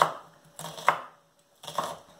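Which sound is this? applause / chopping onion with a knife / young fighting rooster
chopping onion with a knife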